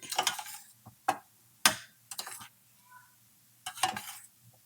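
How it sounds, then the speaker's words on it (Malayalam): A spoon scrapes and clinks in a pot as ground paste is stirred into madhura pachadi, with scattered sharp knocks and scrapes separated by quiet gaps. "അരപ്പ് ഇട്ട് ഇളക്കി"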